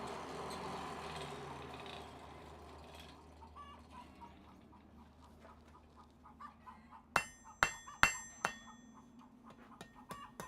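Hammer blows on hot metal in a blacksmith's smithy, a quick run of four or five sharp, ringing strikes near the end after a quieter stretch of low workshop rumble.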